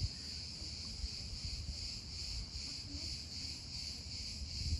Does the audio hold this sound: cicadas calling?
yes